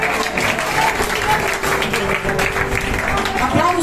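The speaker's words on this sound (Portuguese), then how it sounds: "Você pode aplaudir Jesus?" A church congregation applauds in a dense, steady wash of clapping that holds loud and even throughout, with voices and a sustained tone mixed in underneath.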